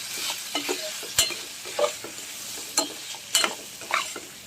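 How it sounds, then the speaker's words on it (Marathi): Spices frying in oil in a pan, soft sizzling with a series of scraping stirs and spoon clinks at irregular intervals, fairly quiet and close. "हे मसाले तेलात जरा लागले तेलाला किंवा आपला मसाला घालूया हे बघा मसाले फ्राय झाले"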